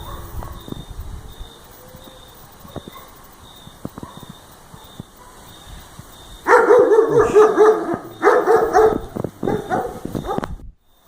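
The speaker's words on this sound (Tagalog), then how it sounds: "sa tahol ng aso, nagugulat ako" A dog barks repeatedly at night, the loud barks clustered near the end, after a stretch of quiet ambience with scattered faint knocks and clicks.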